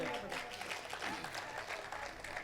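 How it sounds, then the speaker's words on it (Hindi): A mushaira poetry gathering's audience claps in a steady burst of applause, a dense crowd sound heard from a distance and at moderate loudness. "जोरदार तालियां बजाएं।"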